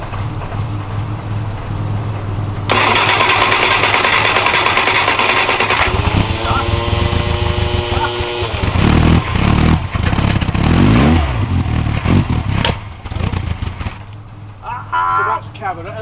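A 1969 Reliant Regal engine under restoration, with a suspected fault, revved to full throttle on test. A loud, close, buzzing small-engine drone rises and falls in pitch and ends in a sputter, with people talking nearby.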